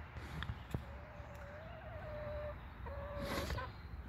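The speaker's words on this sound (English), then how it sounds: "and so we're gonna have now 16 chickens." Chickens clucking softly nearby, with a drawn-out call and a few short squawks over quiet outdoor background noise.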